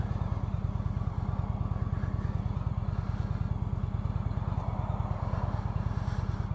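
Indian Chieftain cruiser motorcycle engine chugging at low throttle, a steady rhythmic pulsing thump heard continuously at moderate distance, fairly soft and without talk.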